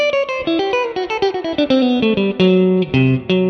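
A clean electric guitar line with effects, notes rising through a bright, dreamy scale, each plucked note ringing with reverb and chorus shimmer.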